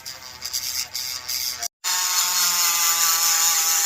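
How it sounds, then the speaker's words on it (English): A small Dremel rotary tool grinds a stuck, stripped bolt on a Honda lawn mower. It gives a close, loud, high whine that stops briefly, then resumes steadily. "So what I got is my little Dremel here, and I'm just gonna clean the bolt up a little bit."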